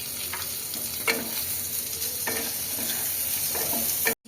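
Boiled potatoes sizzle steadily in a hot pan as a spatula stirs them, with a few sharper scrapes and clatters cutting through the constant frying hiss; no talking.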